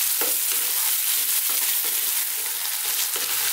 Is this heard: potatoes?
yes